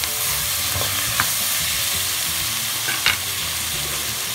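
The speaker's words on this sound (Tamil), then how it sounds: "இப்போ இது கூட நம்ம தக்காளியும் சேர்த்துக்கலாம். சேர்த்துட்டு அதையும் நல்லா வதக்கலாம்." Onion, garlic, green chili and tomato sautéing in a pan for a fish curry, a loud steady sizzle under a few distinct spatula scrapes and knocks, close with no talking.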